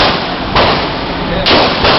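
Gunshots fired at paper targets on a shooting range ring out as two loud, broad blasts about a second apart, each with a short decaying tail over a steady noisy background.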